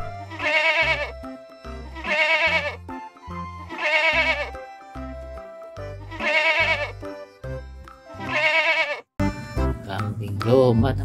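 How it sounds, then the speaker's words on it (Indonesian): Repeated goat or sheep bleats from the Jurassic World Evolution 2 video game, five loud wavering calls in a steady rhythm, followed by a short burst of other noise at the end. "Kambing domba, teman-teman."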